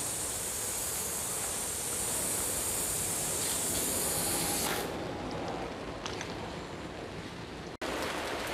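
A cheap handheld spray nozzle for washing a car jets water in a loud, steady hissing spray that cuts off partway through. A fainter residual hiss and scattered drips follow, then a sharp click near the end.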